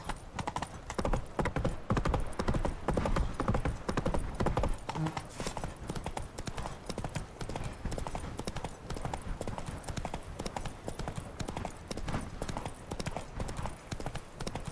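Hooves of Roach the horse in The Witcher 3 beat out a brisk, continuous clip-clop, loud and near throughout, over a light bed of game ambience.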